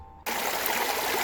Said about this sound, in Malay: Bunyi sungai, bunyi air, bunyi cengkerik malam.